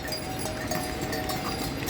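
Horses' hooves clip-clop steadily on the Kedarnath pilgrimage trail over a constant rumble of outdoor noise, a continuous walking rhythm with no pauses.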